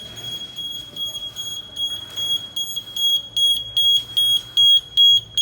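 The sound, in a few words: smoke detector alarm sounding during fire alarm testing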